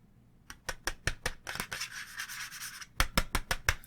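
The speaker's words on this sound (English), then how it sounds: "the Roccat, they brought the wrist rest, detachable wrist rest, but it's very plasticky" Close, quiet scratchy rubbing on the hard plastic detachable wrist rest of a Roccat Vulcan 120 Aimo keyboard, a run of short rhythmic strokes broken by a longer continuous scrape.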